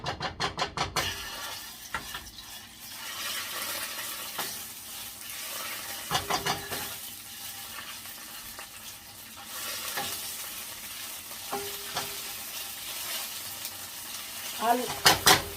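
Tomato paste frying in a pot while a wooden spoon stirs it, giving a soft steady sizzle broken by scraping strokes and knocks against the pot, close and fairly quiet.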